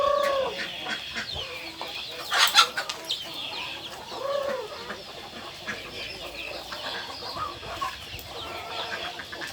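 Several chickens cluck and squawk close by, with one sharp burst of louder cackling early on, over a steady outdoor background.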